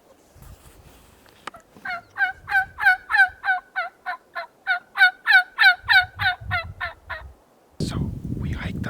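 Wild turkey tom gobbling in Washington backcountry, a rapid rattling series of about twenty gobble pulses in a steady rhythm, moderately distant and clear over quiet background, followed by a burst of rustling noise.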